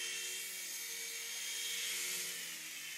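Execuheli Propel RC helicopter flying close by, a steady high-pitched rotor and motor whine held at near-constant loudness throughout, with no talking.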